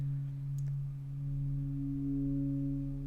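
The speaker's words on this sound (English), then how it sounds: "you're hearing more tones as it increases that shelf to allow more sound through" Arturia Mini-V software synthesizer tone passing through the filter bank with sustain raised: steady layered tones hold throughout, with an upper tone swelling brighter partway in, alone and fairly loud.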